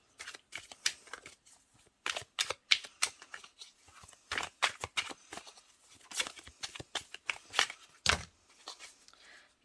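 Tarot cards being shuffled by hand during a reading, producing irregular bursts of crisp riffling and slapping clicks, close and fairly quiet, with no talking.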